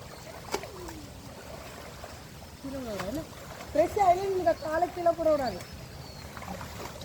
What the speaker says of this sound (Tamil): குளிச்சுட்டு இருக்கேன் பாருங்கள் நிறைய தண்ணி போகுது